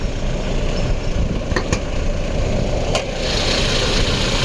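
A 2022 Toyota Fortuner Sigma 4 manual 4x4 diesel with about 112,450 km idles close by: a steady, loud engine rumble with a few brief clicks, no talk.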